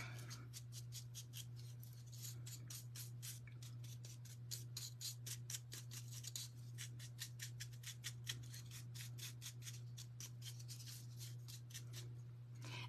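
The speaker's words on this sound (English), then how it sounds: "I'm just dry brushing this a little bit to lighten it up a little bit" A paintbrush dry brushing paint onto a surface in quick, rhythmic scratchy strokes, dozens of short bristly swipes in bursts over a constant low electrical hum, close and soft.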